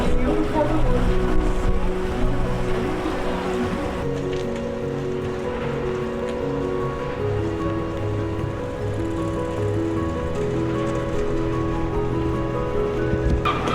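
A tour boat's engine hums steadily on the water in Copenhagen, with water sloshing and a constant droning tone underneath, continuous and fairly loud throughout.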